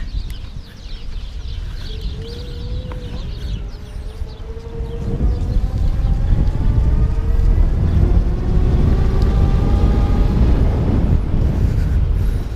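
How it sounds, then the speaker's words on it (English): A Xing Technologies Zycle electric bike ridden outdoors, its rising motor whine climbing in pitch over heavy wind rumble that grows louder as speed builds. "I can gun the throttle once it's already active"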